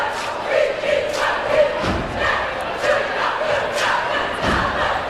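Anxious crowd commotion in a high school basketball gym: a restless murmur of many voices with scattered shouts and a few dull thuds, moderately loud and continuous for several seconds.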